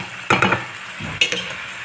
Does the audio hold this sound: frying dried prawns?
yes